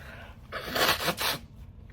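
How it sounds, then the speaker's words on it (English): A close, breathy honk of a nose being blown, two or three bursts of rushing air in quick succession, with no talking. "I've got to blow my nose."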